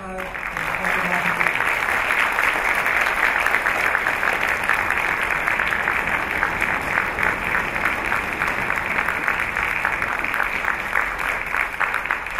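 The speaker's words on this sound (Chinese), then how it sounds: "那我们现在是不是就来掌声欢迎我们的许双亮老师" Warm, steady applause from a concert audience welcoming a teacher at a joint wind band performance of a high school band and the Xinyi District wind ensemble in Taipei, a dense clapping texture holding evenly for the whole stretch.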